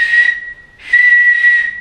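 An ancient Mayan clay whistle at a Belize archaeological site gives two loud, close, breathy high-pitched blasts separated by a short pause.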